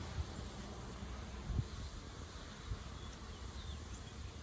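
A steady, faint buzzing drone of about 3,000 honey bees in a shipping package hums continuously, low and muffled as if enclosed, with a few soft thumps.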